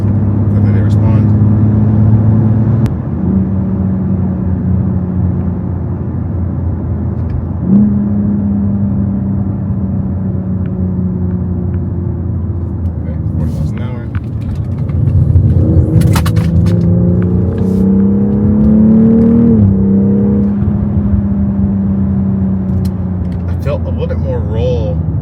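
Engine of a performance SUV, a BMW X3 M40i or Audi SQ5, revs up and drops sharply through repeated quick paddle shifts, heard loud from inside the cabin with a person talking over it.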